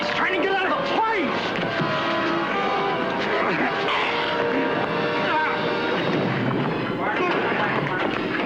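A Navy plane flies in a 1966 horror film scene, its engine roaring continuously beneath shouting voices, with booming bursts that sound like gunfire or explosions.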